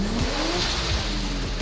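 A Nissan S13 with a swapped 1J six-cylinder engine and a big turbo revs hard. The engine note is loud and continuous and rises in pitch, with no talk over it.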